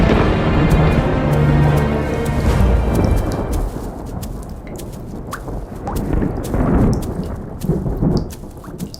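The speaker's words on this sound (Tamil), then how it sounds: "ஆமா மழையாட்டு இருக்குது. மழைதான்." Heavy rain pours down while thunder rumbles, loud and low at first, then fades into a steady, crackling downpour with a second swell of rumble toward the end.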